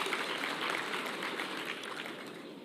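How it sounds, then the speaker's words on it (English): Applause for the president at a founders' dinner: a soft, steady patter of clapping from a gathered audience, moderately distant, fading slightly toward the end with no talk over it. "Can we clap for him, for the president?"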